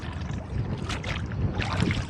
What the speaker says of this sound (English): Wind concentrated between these two tall shores here.